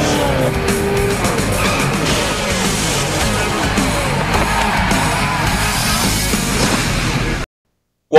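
Fictional Piston Cup Series race cars roar around Nashville Superspeedway, a dense continuous engine drone with crowd noise mixed in, loud and steady until an abrupt cutoff near the end.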